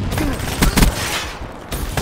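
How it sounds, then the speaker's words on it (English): The Vesper submachine gun fires in Black Ops 3 multiplayer, with short bursts of rapid gunfire set against busy game ambience, up close and loud. "the submachine gun on the Vesper."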